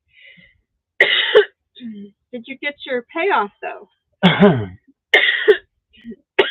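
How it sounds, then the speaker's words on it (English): Several harsh, close coughs burst out in quick fits, spread between stretches of conversation as people talk nearby. "You're making me cough."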